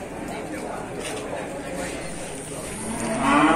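Cattle moo at the Sibreh livestock market, one drawn-out low bellow swelling near the end over a background of crowd chatter and nearby talk.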